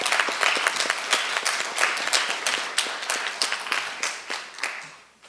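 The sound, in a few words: audience applause welcoming a speaker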